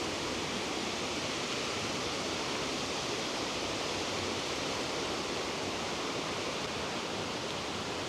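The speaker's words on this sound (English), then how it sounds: "We're just crossing the stream that the waterfall we just visited was on." Constant rushing water fills the scene, a steady broad roar of a stream below a waterfall at Laxey flowing close by, with no voices.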